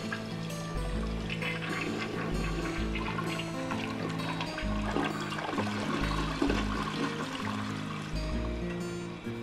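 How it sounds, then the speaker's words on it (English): A long toilet flush in the video game Unpacking: a close, loud swirl and gush of water that runs on for several seconds, then trickles and drains toward the end, with no voices. "That's a long flush noise."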